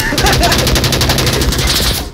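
Rapid, loud automatic gunfire in the Onward VR shooter game: close bursts of fast repeated shots that rattle continuously, then cut off abruptly.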